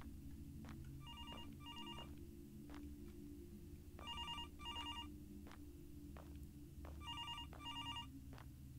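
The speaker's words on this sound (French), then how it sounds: "Il y a un téléphone qui sonne." A telephone bell rings in a haunted cemetery video game, three double-burst rings spaced evenly over a steady low background hum, clear and moderately loud.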